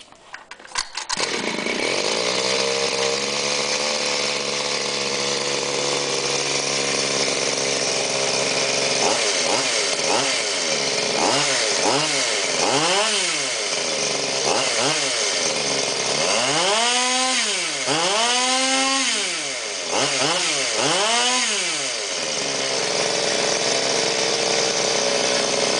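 A Goped X-Ped scooter with a G230RC cylinder, 167 carb, RC coil and G2D exhaust can starts with a sharp pull, then idles with a buzzing small two-stroke drone and revs in repeated rising and falling sweeps, loud and close.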